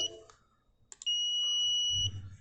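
A couple of short electronic chirps from an active buzzer module, then a steady high-pitched buzzer tone holding for about a second before cutting off, followed by a low rustle.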